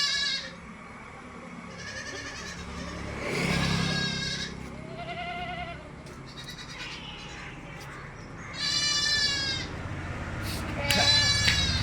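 A mother goat and her two kids bleat repeatedly, near and loud, with overlapping cries, shuffling noise and some voices under them, at a livestock sale.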